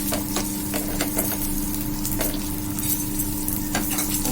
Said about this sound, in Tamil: எல்லாமே எண்ணெயில் வதக்கணும்.